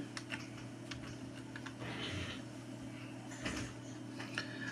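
Keys tapped on a computer keyboard while an admin's name is entered on a Facebook page, producing scattered soft clicks in short bursts over a steady low electrical hum, fairly quiet and without talk.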